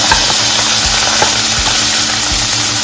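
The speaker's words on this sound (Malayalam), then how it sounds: "ഇത് ഇത്രയും ഇട്ട് കൊടുത്ത് നന്നായിട്ട് ഇളക്കി ഒന്ന് വഴറ്റിയെടുക്കും." Onion, capsicum and carrot stir-frying in a pan for oats upma, a steady loud sizzle with regular scraping stirs of a spoon against the pan.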